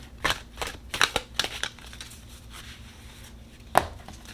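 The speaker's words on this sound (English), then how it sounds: "Archangel oracle cards. Let's shuffle." Oracle cards from an Archangel deck being shuffled by hand, a few brisk papery riffles and slaps clustered early, then a quiet stretch and one sharp snap near the end, close and fairly soft.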